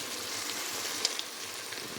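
Shredded cabbage sizzles in a hot frying pan for beef borscht, a steady, close crackling hiss with a couple of small sharp pops near the middle.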